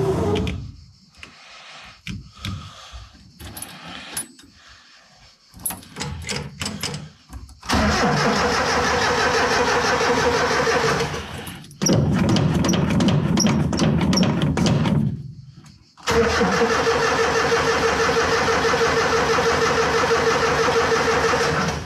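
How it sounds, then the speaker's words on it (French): Mitsubishi Pajero engine being cranked, with a few short, uneven attempts before it catches, then a loud, steady running idle close by that briefly cuts out and restarts. "Bon, est-ce qu'il va démarrer lui depuis le temps?"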